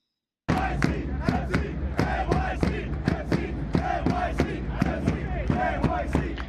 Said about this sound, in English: NYCF fans stretching out those vocal cords after a long, long winter